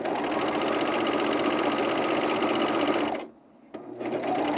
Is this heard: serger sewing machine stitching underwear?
yes